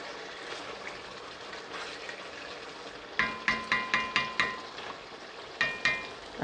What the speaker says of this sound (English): It's cooking. It's bubbling.